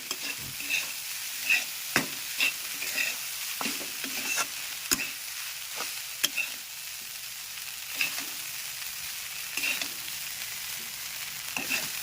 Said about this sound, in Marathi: मस्त असे पोहे त्या ठिकाणी परतून घ्यायचे आहेत चांगले